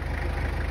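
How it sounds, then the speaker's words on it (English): A Kubota tractor's diesel engine idles steadily at close range with an even, low mechanical thrum, used outdoors while processing a deer. "Got the tractor pulled up here"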